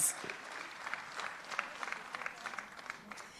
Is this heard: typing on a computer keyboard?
no